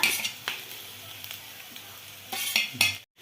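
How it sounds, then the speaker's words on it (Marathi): Onions frying in a pan until golden give a steady low sizzle, broken by several sharp scrapes and stirs of a spatula against the pan, ending abruptly in silence. "सोनेरी होईपर्यंत कांदा जो आहे तो व्यवस्थित भाजून घ्यायचा"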